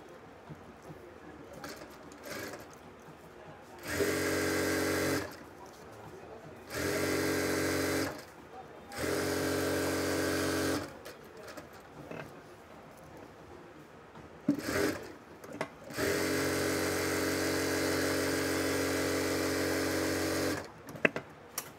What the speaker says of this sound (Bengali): এইভাবে একটা সাইড সেলাই করে নেওয়ার পর আমরা দ্বিতীয় সাইডটাও একইভাবে সেলাই করে নেব